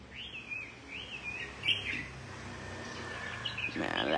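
Caged birds chirping, a run of bright, close tweets and short calls early on, then fainter chirps over a low hum, ending with a louder burst.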